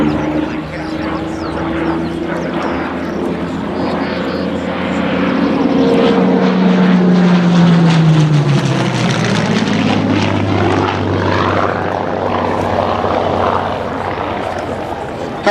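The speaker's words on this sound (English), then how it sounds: "The Hurricane entered service with the Royal Air Force in 1937." A Hawker Hurricane propeller fighter flies past at an air festival, its engine drone swelling steadily, peaking as the pitch drops through the pass, then holding strong to the end with no one speaking.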